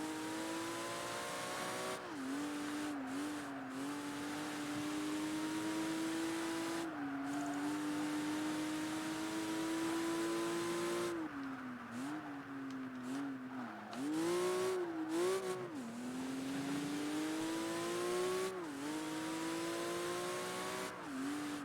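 Roof supercar concept race car in Project Gotham Racing 3, its engine droning loudly and steadily with repeated rising revs through gear changes, brief drops and tire squeal, and no talking.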